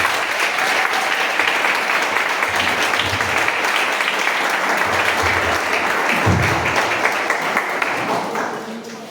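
An audience at a Sunday church service gives a full round of applause to welcome an elder to the front. The dense, steady clapping lasts about nine seconds and fades slightly at the end.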